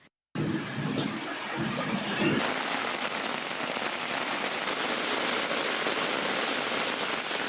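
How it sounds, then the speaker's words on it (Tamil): Heavy rain pours steadily in Manamadurai and the SIPCOT area of Sivaganga district, with water running over the roads, a dense, loud, continuous hiss that stays even throughout, with no voices. "சிவகங்கை மாவட்டம் மானாமதுரை வளநாடு கால்பிரிவு சிப்காட் உள்ளிட்ட பகுதிகளில் பெய்த கனமழையால் தண்ணீர் சாலைகளில் பெருக்கெடுத்து ஓடியது"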